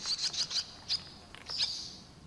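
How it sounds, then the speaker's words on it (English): Sharp, high swallow alarm calls ring out in quick bursts, some clustered together, clear and fairly close against a quiet background. "The swallow calls out in panic."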